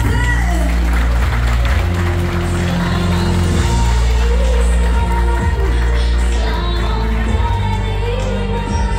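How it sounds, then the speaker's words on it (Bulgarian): Guests at an outdoor civil wedding ceremony applaud in a dense, continuous wash of clapping that holds steady for several seconds, blended with crowd murmur and music. "Имаме ли аплодисменти за кумовете?"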